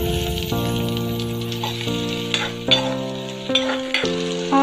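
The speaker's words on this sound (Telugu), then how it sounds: "ఆనియన్స్ లైట్గా బ్రౌనిష్ కలర్లో వచ్చేంత వరకు ఫ్రై చేసుకోవాలి." Chopped onions with ginger and garlic pieces sizzle in two tablespoons of oil for veg manchurian, with scraping stirs against the pan over a bed of tonal background music.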